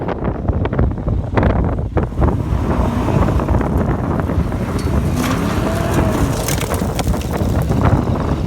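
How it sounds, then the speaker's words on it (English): Strong wind on a hilltop by an opal mine area buffets the microphone in loud, rough gusts, a constant roaring rumble with sharper bursts throughout. "And it's so windy!"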